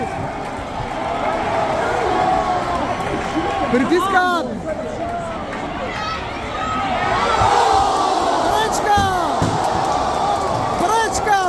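A roaring stadium crowd of English football fans cheers steadily through an England–Ghana football match, a dense wall of noise beneath a commentator talking over it.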